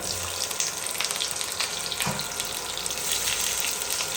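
Chopped onion frying in hot oil with whole cumin for palak paneer, a steady, dense hiss of sizzling that runs through the whole stretch at moderate loudness, close up and without talk.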